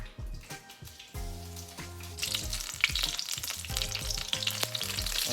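Vegan food coated in cornstarch browns in a frying pan, giving a steady close sizzle that thickens and grows louder partway through, with tonal sounds in the background.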